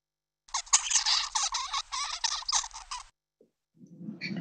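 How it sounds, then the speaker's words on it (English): A baby finch babbling, a rapid run of soft chirps and squeaky notes lasting a few seconds, fairly close and clear, followed by a brief pause and a low faint noise. "all a baby finch can do is babble"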